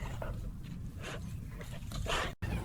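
A dog barks in short, separate bursts during a morning walk outdoors. The bursts are fairly close and rise above a steady background rumble.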